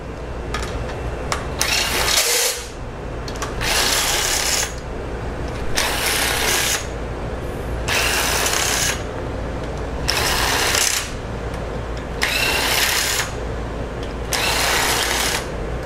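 A ratchet works loose the cylinder head bolts on a Jeep 2.4 engine, giving about seven rapid clicking bursts of roughly a second each, evenly spaced with short pauses, close and fairly loud over a low workshop hum.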